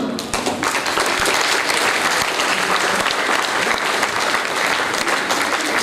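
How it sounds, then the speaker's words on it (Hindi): An audience at a students' felicitation program applauds as a student is called up, a loud, dense, continuous burst of clapping filling the whole stretch. "तालियों की आवाज सुनाई देनी चाहिए"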